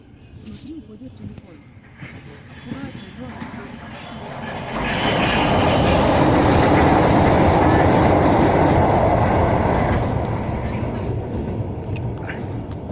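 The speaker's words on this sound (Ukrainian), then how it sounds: "а тут зараз приїде поїзд" A train rolls under a bridge, rising from distant rumble to a loud, close roar of rattling cars after people speak briefly, then slowly fading as it passes.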